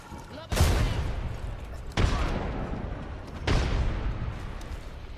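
Video game explosions, three loud, booming blasts spaced about a second and a half apart, each with a long rumbling decay, close and prominent.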